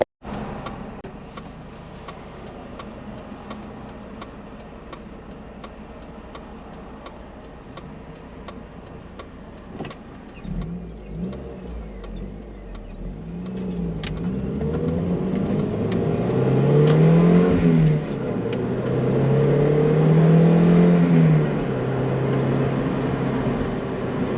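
Inside a moving Spider car, steady engine and road rumble with faint ticking, the engine note swelling and rising in pitch as it accelerates in the second half, no voices.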